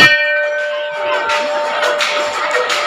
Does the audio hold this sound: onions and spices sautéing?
no